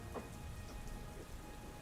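Light drizzle falls steadily in the mountains after a thunderstorm has passed, a soft, even patter of rain with faint scattered drops, continuous and low throughout.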